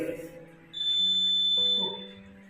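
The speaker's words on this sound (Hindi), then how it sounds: "बजर के माध्यम से अलार्म बजेगा" A buzzer alarm on a student tinkering lab model gives a steady high electronic tone for a little over a second, loud and close, with faint voices and room noise around it.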